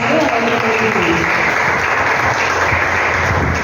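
A church congregation claps, giving a dense, continuous burst of applause that stays loud and steady for several seconds, with faint voices mixed in.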